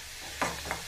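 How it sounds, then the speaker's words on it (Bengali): Grated raw papaya frying in a pan over medium flame for papaya burfi, a soft continuous sizzle broken by two short scraping stirs, close and quiet, no voices. "এটাকে ভাজা ভাজা করে নিচ্ছি"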